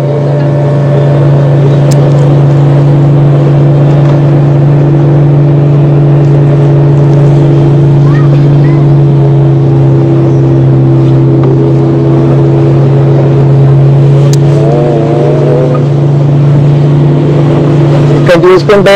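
Motorboat running steadily through heavy waves off Elephant Beach, Havelock Island, its engine a loud continuous drone throughout, with a person talking briefly near the end.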